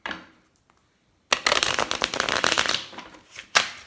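Morgan Greer tarot cards are shuffled in a quick riffling burst after a short silence, a close, crisp flutter ending with a final snap.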